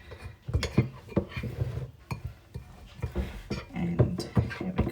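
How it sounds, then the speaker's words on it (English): A spoon stirs a vegetable cutlet mixture in a bowl, scraping and clinking against the sides in irregular strokes, close and clear, with no speech. "I'm just going to grab a spoon and make sure there is no lumps inside this."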